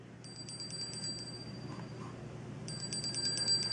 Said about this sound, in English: you can hear that lovely bell saying the timer's up